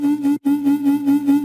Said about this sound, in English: It's a square going through a low pass filter and a scream filter